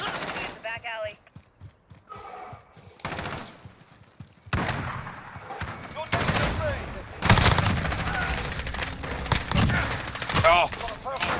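Rapid bursts of automatic gunfire crackle through a video game firefight, sparse shots early giving way to loud, dense volleys, with voices talking over the action.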